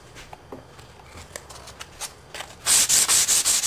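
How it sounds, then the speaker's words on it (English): Rapid scratchy sanding strokes of a foam pad rubbing back and forth on a guitar fretboard, quiet at first, then loud, close, repeated rhythmic swipes in the final second. "So I'm just going to get started working on some sanding."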